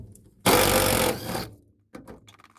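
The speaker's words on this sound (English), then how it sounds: "Like everyone undoes their tech screws to get their seat out" A power tool undoes the tek screws holding a seat in a drift car. It gives one loud, close, rough whirring burst of about a second, then fainter handling noises.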